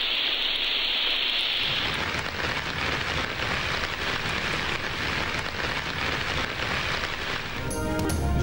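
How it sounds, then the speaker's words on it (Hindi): Heavy torrential rain pours down in a dense, steady hiss, loud and continuous throughout, with no voices. "जहलुम, मुजफ्फराबाद, हंगू में मूसलाधार बारिशें"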